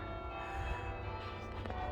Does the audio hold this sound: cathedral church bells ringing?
yes